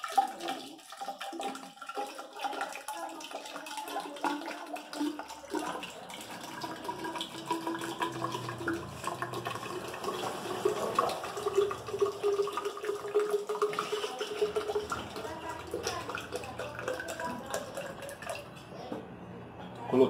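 Water pours into a used, slightly dirty container while ferric chloride solution is prepared for knife etching, a steady splashing trickle that runs continuously and fairly loud.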